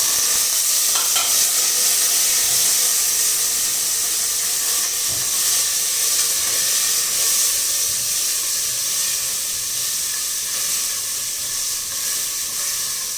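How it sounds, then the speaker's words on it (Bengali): Garlic and shrimp frying in a pan, a steady, close hiss and sizzle with faint stirring scrapes running unbroken throughout, no voices. "আমি এই যে গার্লিক যেটা রসুন দিচ্ছি, এটা টপ দিয়ে দিব। আমি একটু হালকা একটু ভাজা নিব।"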